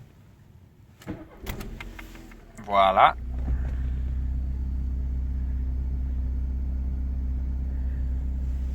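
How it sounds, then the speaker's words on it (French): A warm 1990 Volkswagen Golf II GTI engine starts with a brief cranking whir. It catches and settles into a steady, low, even idle. A few clicks and handling noises come before the start, and a voice speaks briefly. "je vais démarrer la voiture à chaud"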